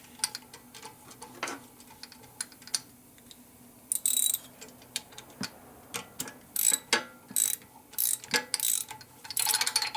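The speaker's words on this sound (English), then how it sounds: "And just screw them on down." Screws are driven down by hand during an 88ci big-bore S&S rebuild of a 2001 Indian Scout motor, giving close, irregular ratcheting clicks and sharp metallic ticks in uneven bursts that grow busier toward the end.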